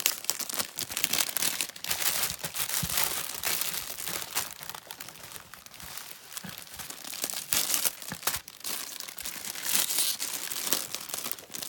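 Close, continuous crinkling and occasional tearing of paper as a gift package holding a small Provençal-fabric parasol with lavender is unwrapped, busy and uneven throughout.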